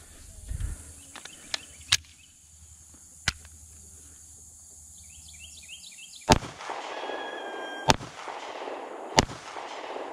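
Sharp, loud single reports from a DiamondBack DB9 Gen4 pistol at an outdoor range, spaced a few seconds apart, with faint insect chirping and distant shots in the background.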